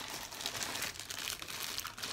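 Thin plastic bag crinkling steadily as Clinique makeup freebies are unpacked from a small gift bag, a close, continuous rustle with no talking.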